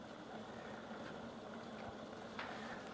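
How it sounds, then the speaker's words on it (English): A pot of water and fresh mint leaves boils with a steady low bubbling rumble, faint and continuous, with a soft pop or two near the end. "With the water and the leaves boiling now,"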